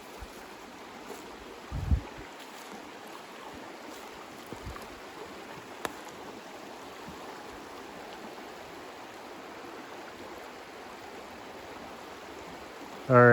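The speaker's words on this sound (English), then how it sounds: "Still a pretty trout stream though." Steady broadband rush of Salmon Creek, a trout stream in the Allegheny National Forest, constant and close, with a brief low thump near the start and a louder knock at the very end.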